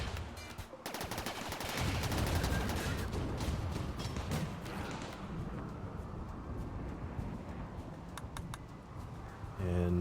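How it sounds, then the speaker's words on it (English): Small defensive turrets in the video game RimWorld fire on an approaching centipede mechanoid, producing dense continuous rattling gunfire throughout with a speaking voice over the top. "Let's turn on these smaller turrets again now that the centipedes are close, just to plink this centipede to death."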